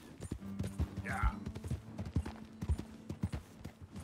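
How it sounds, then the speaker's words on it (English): A chestnut horse in Red Dead Redemption 2 clip-clops along in a steady rhythmic gait, its hoofbeats loud and close, with a low droning tone and voices talking over parts of it. "This is a chestnut horse."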